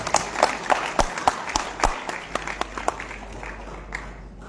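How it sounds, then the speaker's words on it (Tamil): Audience applause at a Malaysian association conference, a hall full of clapping hands with sharp individual claps over a steady wash of sound, fading gradually. "அதனால மீண்டும் ஒரு பலமான கரகோஷம் கொடுங்க"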